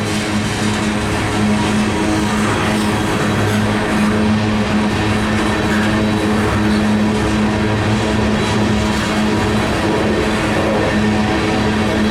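A CSX manifest freight train rolls slowly through St. Marys, West Virginia while street running, a loud continuous rumble of wheels and cars with a sustained low hum, heard close by with no talk.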